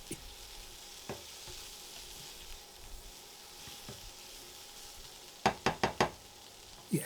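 Green peppers and onions fry in a pan with an extractor fan running, a steady close sizzle broken by occasional knocks and a quick run of four sharp utensil taps near the end.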